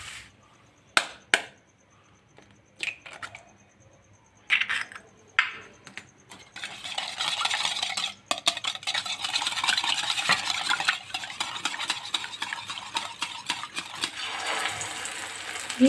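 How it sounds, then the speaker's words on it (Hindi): Two eggs being beaten in a bowl for shami kababs, beginning with a few separate taps and clinks, then settling into a fast, continuous rhythmic clatter of whisking that carries on to the end. "इसमें हमने 2 अंडे डालकर अच्छी तरह से फेंट लेने हैं"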